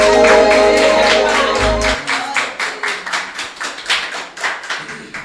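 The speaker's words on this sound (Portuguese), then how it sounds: "Você pode aplaudir o Senhor Jesus bem forte para a honra e glória do nosso Deus." A church congregation claps in praise during a service, first under a loud musical tail, then as a rhythmic round of beats at a steady pulse, fairly close and full.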